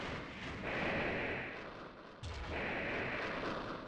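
Explosions in the Armored Core video game, heavy rumbling blasts that swell, dip briefly and then surge again, sustained and loud with no talk over them.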